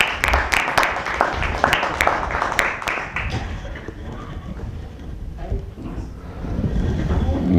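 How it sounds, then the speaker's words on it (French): Applause at a municipal council meeting in La Queue-en-Brie: a crowd in a hall claps in a dense burst of crisp claps that thins into a murmur of voices, then swells again. "On peut l'applaudir."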